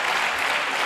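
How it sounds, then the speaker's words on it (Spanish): Brief burst of applause in a parliamentary plenary session, dense and even clapping from many hands filling the chamber, loud and steady with no speech over it. "Han terminado con sus aplausos y yo he seguido leyendo recortes"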